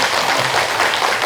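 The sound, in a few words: applause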